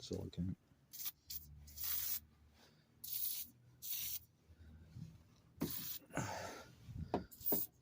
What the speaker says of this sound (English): I'm just going to hit it with some silicone